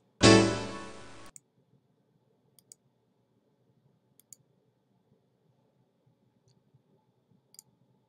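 Several sparse, faint mouse clicks, as when confirming a dialog in Windows 9x/Me, come after a brief loud burst of noise, then quiet.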